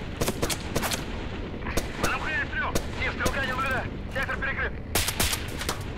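Escape From Tarkov gunfire in close-quarters combat, with loud sharp shots cracking out singly and in quick bursts throughout, and voices and radio chatter beneath them.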